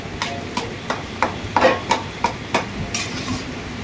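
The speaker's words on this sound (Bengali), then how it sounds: "তাহলে আবারও ভালো করে নেড়ে চেড়ে নিয়ে" A spoon stirs a papaya, potato and chickpea curry in a pan, knocking against the metal in a steady series of sharp scrapes and taps roughly every half second, close and clear with no talk.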